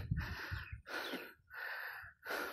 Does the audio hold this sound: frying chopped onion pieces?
no